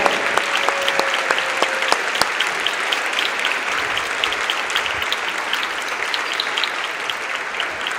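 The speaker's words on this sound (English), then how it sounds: "A nice ovation here from the home crowd" A home crowd at a Kentucky high school boys basketball game applauds steadily and loudly for the full stretch, a dense wash of clapping with no break, with a few faint tonal notes near the start.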